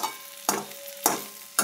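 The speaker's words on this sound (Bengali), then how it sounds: "আবার পাঁপড় ভাজবো" Papad frying in oil: three sharp bursts of crackling sizzle at even intervals, each fading into a quieter fizz before the next, close and alone with no talking.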